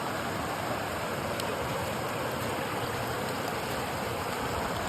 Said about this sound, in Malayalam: ഈ സ്പൂൺ ഒന്ന് കഴുകാം കേട്ടോ